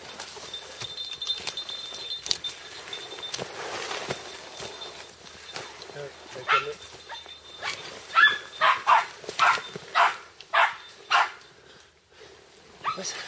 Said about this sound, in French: Le chien s'excite.